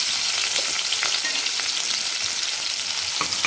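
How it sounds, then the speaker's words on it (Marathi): Onion goes into hot oil with crackling cumin seeds for a spicy brinjal and potato curry, giving a steady, close sizzle of frying with faint stirring ticks and no voices. "जिरे छान तडकल्यानंतर आपल्याला कांदा टाकायचा आहे"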